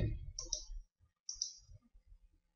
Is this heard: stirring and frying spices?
no